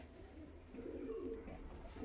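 Pigeons coo in a low, continuous rolling murmur, swelling slightly midway, fairly faint and without talk.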